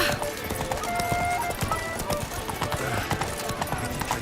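Horse Roach gallops with steady, close clip-clop hoofbeats in the game The Witcher 3: Blood and Wine, heard over a continuous layer of game music and ambience.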